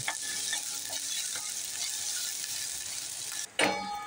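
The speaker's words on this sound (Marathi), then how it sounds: "गोल्डन ब्राऊन होईपर्यंत आपण कांदा भाजून घ्यायचा आहे चांगला." Onion frying in oil in a pan for an egg curry, a steady loud sizzle running throughout with a few faint stirring taps and a brief dip and burst near the end, no talking.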